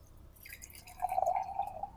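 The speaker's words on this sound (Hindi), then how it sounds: "अब इसमें फिर पानी डलेगा" Water poured into a glass holding saffron threads during a purity test, a close trickling splash rising in pitch as the glass fills, with no talk.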